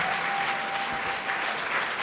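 Audience at a school playback show applauds in a steady, dense wash of clapping that fills the whole moment, with no talk over it.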